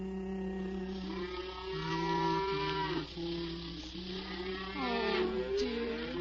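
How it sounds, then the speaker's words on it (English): Cattle moo in long, low, overlapping calls as the herd is driven home in the evening, several animals lowing steadily and fairly close, with a soft hum underneath and no talking. "It's only the cows. They're driving them home now."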